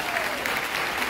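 Steady applause from a graduation audience at a cosmetology school ceremony, a dense wash of many hands clapping without pause, fairly loud and continuous.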